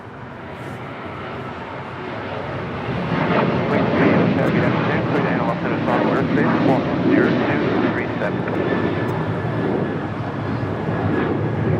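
A four-year-old Airbus A350-900 arriving from Seoul lands at Los Angeles International Airport, its engine roar building loud and sustained after a few seconds, with faint voices in the background.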